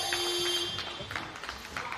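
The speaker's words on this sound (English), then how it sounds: "You can probably hear some buzzers going on from the background there on the other court" Faint, steady electronic buzzer tones drone from a distant basketball court during an indoor game, under squeaking shoes, crowd noise and commentary.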